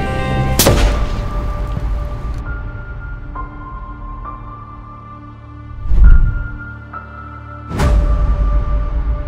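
A hunting rifle fires three loud, sharp shots outdoors, spaced a few seconds apart, each with a booming report and a long echoing decay, and no talk between them.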